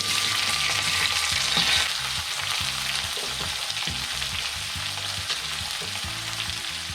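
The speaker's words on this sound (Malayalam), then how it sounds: "അത് എണ്ണയിൽ കിടന്ന് പൊട്ടുമ്പോൾ നല്ല മണം. ഇതിലേക്ക് നമ്മൾ സവാള ഇട്ട് കൊടുക്കും." Curry leaves and sliced onion frying in hot oil, a steady loud sizzle with crackling throughout and a few stirring knocks of a spoon against the pan.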